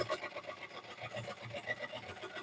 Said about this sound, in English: You can almost do the whole inside of this bowl with just a scraper if you wanted to.